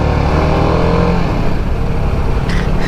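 A TVS Apache sport motorcycle gives a deep, throaty growl while underway, loud and close, with a dense low rumble that holds steady for a few seconds.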